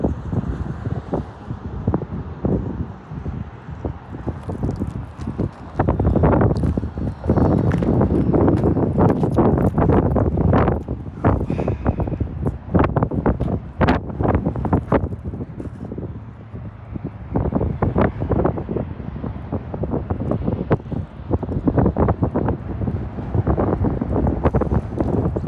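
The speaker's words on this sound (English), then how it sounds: "Still dealing with the wind, guys." Heavy wind buffets the microphone outdoors around an old building in Kansas City's east side, a loud continuous rumble with gusty bursts that swell and fade throughout, with no voices heard.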